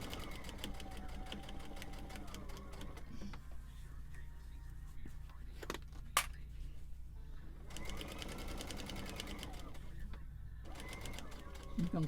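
Sewing machine stitching fabric soup cozies, running in bursts of steady mechanical whirring with pauses between, up close, with speech picked up in places.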